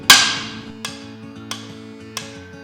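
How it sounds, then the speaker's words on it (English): A 5-pound hammer striking steel engine block parts during an LS engine build: one hard, ringing metallic blow followed by three lighter, evenly spaced strikes, each leaving a sustained ring. "5-pound hammer, great investment."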